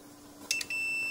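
A Frigidaire oven controller board under a repair test gives a quick click and double chirp, then settles into a sustained electronic beep, close and clear with no talk.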